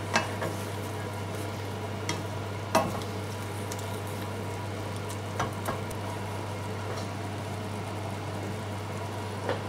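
Field mushrooms frying in a pan, a steady soft sizzle with a few sharp clicks of a utensil stirring, under a constant low hum.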